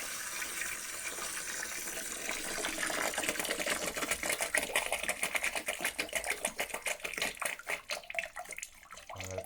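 Water from a reverse osmosis filter system fills a bucket, a close, loud steady pouring that turns into rapid gurgling and sloshing as the level rises, alone with no voices.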